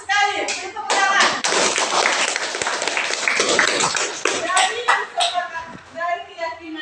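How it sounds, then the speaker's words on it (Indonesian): A class of students claps hands together at a school session, a burst of loud, close clapping that swells and then thins out, with voices heard at the start and end. "Beri tepuk tangan."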